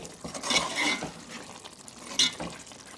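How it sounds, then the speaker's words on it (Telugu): Mutton gravy curry stirred in a pot, with short wet scraping and sloshing strokes, two louder strokes standing out, close up and without talk. "కొత్తిమీర యాడ్ చేసుకున్నాం కదా, ఒకసారి కలుపుకుందాం."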